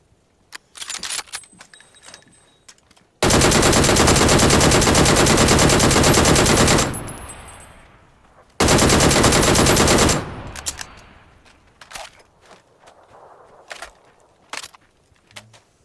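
A DP-28 machine gun fires in the PUBG video game as two long, loud, sustained bursts, the first lasting about four seconds and the second about two, framed by quieter clicks and scattered game sounds.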